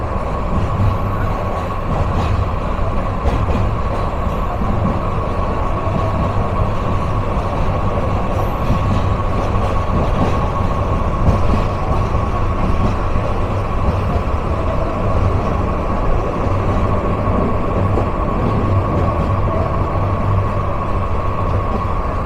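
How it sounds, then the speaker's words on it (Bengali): The Lalmoni Express passenger train rolls through Tongi railway junction, a loud, steady rumble and rattle of wheels and carriages heard from on board without a break. "পার করছি বিপজ্জনক টঙ্গী রেলওয়ে জাংশন"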